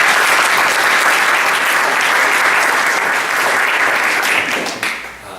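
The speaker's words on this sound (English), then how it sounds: "maybe a round of applause for Mr." A debate audience in a hall claps loudly and steadily for a speaker. The dense applause holds for several seconds, then thins out and fades at the end.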